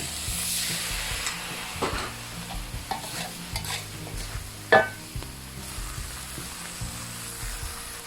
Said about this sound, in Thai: ใช้ไฟแรงผัดเลยค่ะ